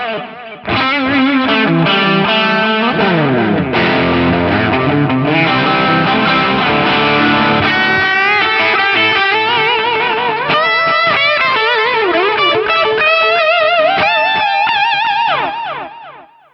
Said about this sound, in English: We've got an awesome sounding combination of delay and reverb.